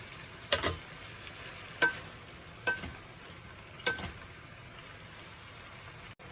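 Broccoli and cauliflower with a little water cook in a pan, a soft steady sizzle punctuated by four or five distinct stirring clinks at uneven intervals, close and fairly quiet.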